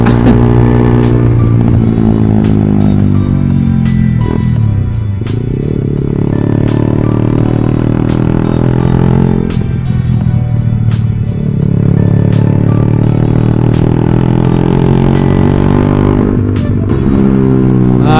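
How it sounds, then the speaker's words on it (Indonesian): Loud motorcycle exhaust while riding in traffic, a close, blaring engine drone that rises and falls with throttle, with revving surges and rattling clatter throughout. "knalpotnya bacot banget"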